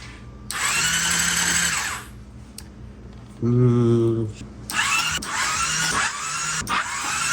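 A Yamaha R6 motorcycle with brand new plugs that won't start cranks on its starter for a compression check, two or three loud whirring bursts separated by pauses, close up with no talk.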